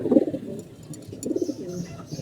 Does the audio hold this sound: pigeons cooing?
yes